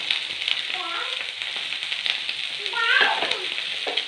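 Onions and shallots sizzle steadily in a hot pan, a soft continuous frying hiss with a brief louder stir or crackle near the end.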